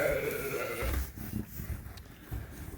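Sheep heavy with lamb bleat on a farm in a couple of moderate calls near the start, followed by quieter scattered bleats and shuffling.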